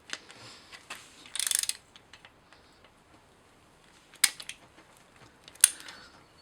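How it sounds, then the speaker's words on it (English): Ratchet working a rusted exhaust manifold bolt on an LS engine back and forth, giving soft faint clicking with a few sharper bursts of ratcheting spread across the clip, close by and without talk. "Just work it back and forth till the rust frees up, and then take it all the way off."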